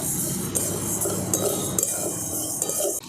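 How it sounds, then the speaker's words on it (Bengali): Dry sago pearls being roasted and stirred in a dry kadai, a steady hiss with light scraping and clinking of a utensil against the pan, no talking. "এবার আমি শুকনো কড়াতে খুব ভালো করে এটাকে একটুখানি ভেজে নেব।"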